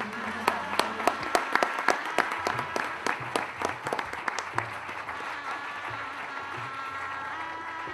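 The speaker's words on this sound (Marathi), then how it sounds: "टाळ्यांचा कडकडाट करून आपण" Audience applause at the golden jubilee function of B.Y. Padhye Publicity Service, opening with distinct separate claps that quickly thicken into a steady, moderately loud round of clapping.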